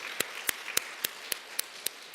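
A church congregation at a young adults' worship service clapping in praise, about eight slow, evenly spaced claps heard close over quiet room tone.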